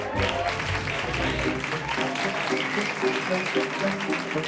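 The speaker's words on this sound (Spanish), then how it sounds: "Fuerte el aplauso para Elsa Ruiz" An audience claps steadily for comedian Elsa Ruiz, dense crowd applause at an even level throughout with faint voices mixed in.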